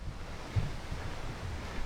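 Low, blustery wind buffeting the microphone at a OneTigris Back Woods Bungalow 2.0 tent, a steady rumble with a few gusty thumps and no voices.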